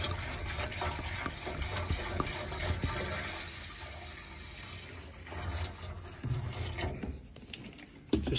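Warm water pours and gurgles steadily into a 1975 Series 3 Land Rover fuel tank, splashing and sloshing close by with a few clunks, no voices.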